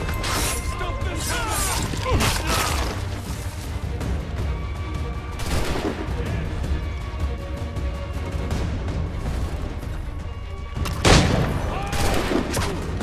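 Gunfire rings out through the Assassin's Creed 3 game, with a lead-up to a headshot, as a near, continuous crackle of shots and impacts with two sharper bursts partway through and near the end, over a dense battle din.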